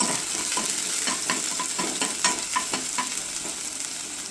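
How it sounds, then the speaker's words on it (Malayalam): Sliced onions frying for a vegetable biryani, a steady close sizzle broken by repeated light scrapes and taps of a stirring spoon, no voices. "കുറച്ച് സവാളയും കൂടി നമ്മൾ ഫ്രൈ കൊടുക്കും"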